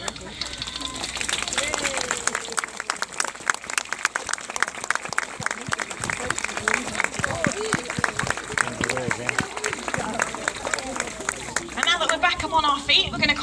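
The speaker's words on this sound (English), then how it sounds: "we're going to need a huge round of applause" Loud, sustained applause and cheering from a large audience fills the space as an elephant rises onto all four feet during a live show, with crowd chatter mixed in throughout.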